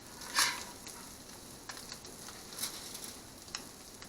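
Crab cakes searing in a hot pan give a soft, steady sizzle with occasional brighter crackles and spits, fairly quiet and close, with no voices.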